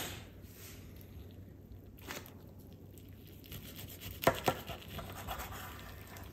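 Kimbap rolls sliced with a knife, several soft cutting strokes through rice and seaweed with a cluster of quick chops and a light board knock partway through, close and quiet, with no talking.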